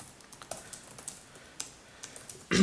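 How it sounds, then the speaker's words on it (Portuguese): Light, irregular keystrokes on a computer keyboard during a podcast session, close and soft, ending in a louder burst of noise. "Tô só digitando pra não esquecer pra eu falar já já."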